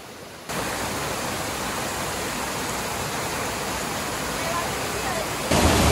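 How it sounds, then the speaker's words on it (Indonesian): A mountain river waterfall on the slopes of Mount Merbabu roars with a dense, steady rush of falling water, loud and close, filling the whole stretch without pause. "Kali ini kami sudah sampai di air terjun ketiga"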